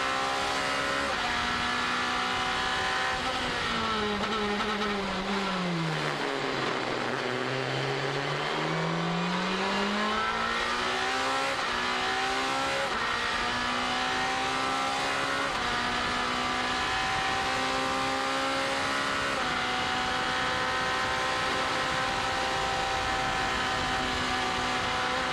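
A sport prototype endurance race car runs flat out on track, its engine note loud and close and holding high most of the time, dipping once in the middle as it brakes for a corner before climbing back up and sustaining.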